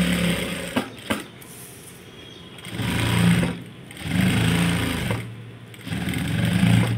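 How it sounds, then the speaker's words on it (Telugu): Sewing machine stitching a maggam work blouse: bursts of steady mechanical whirring, each running for a second or two, separated by short pauses, close and loud. "ఇక ఇప్పుడు మనం ఏం చేయాలంటే దీన్ని అడ్జస్ట్మెంట్ చేసుకుని చక్కగా స్టిచ్చింగ్ చేసేసుకోవాలి."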